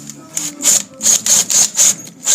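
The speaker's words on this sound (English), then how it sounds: "So we're going to drill with the Heli Coil bit." Heli Coil drill bit boring into a ski, a series of short, sharp whirring bursts about six in a row, close and fairly loud with brief pauses between them.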